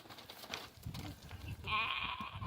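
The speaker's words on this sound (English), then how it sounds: "and even rescued a sheep." A sheep on a coastal walk in the UK bleats once, a short, fairly close call near the end of the clip, after quiet outdoor background and faint rustling.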